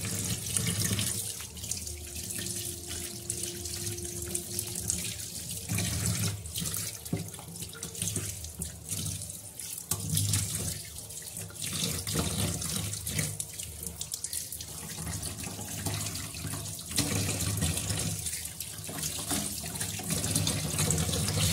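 Raw chicken being washed under a running kitchen tap, a steady close rush of water splashing into a sink with shifting gurgles and occasional handling sounds, continuous throughout with no talk.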